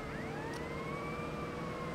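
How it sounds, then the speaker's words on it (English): Police car siren from a GTA Vice City game on PlayStation 4, a steady rising and falling wail running through the whole stretch over a dense rumble of game noise, moderately loud and with no talk. "there's a police car."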